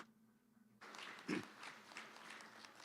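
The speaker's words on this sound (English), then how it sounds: "Let's give Anna a big round of applause." Applause breaks out after a quiet moment, a crowd clapping steadily with a brief louder burst near the start.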